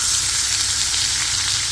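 Marinated fish frying in a pan for fish pollichathu, a dense, even, close sizzle that holds steadily throughout.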